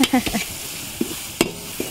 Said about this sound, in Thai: หนูช่วยผัดค่ะ